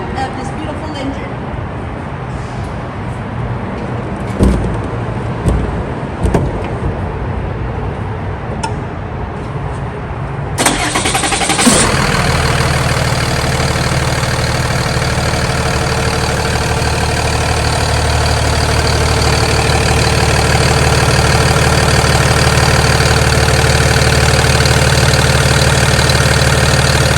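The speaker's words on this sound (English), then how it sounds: "pay attention to this sound of this beautiful engine" A Hino L6 truck's engine, hood open, turns over around the middle and settles into a loud, steady idle with a low rumble that continues to the end, following quieter handling noises.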